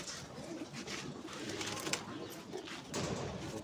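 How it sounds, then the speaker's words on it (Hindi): Pigeons coo among a flock kept by a hobbyist in Lucknow, with a new black pigeon held up for show. Soft, steady bird calls fill a busy, noisy backdrop. "ये देखिए दोस्तों, ये नया कबूतर आया है"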